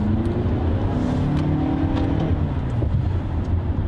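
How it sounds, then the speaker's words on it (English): A 2019 Toyota RAV4 Hybrid accelerates through a midday Brussels tunnel, its engine droning loud and close as the pitch climbs steadily, with echoing road roar all around. "that was a bit of acceleration"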